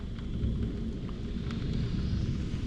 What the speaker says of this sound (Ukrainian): І блискає, і гримить.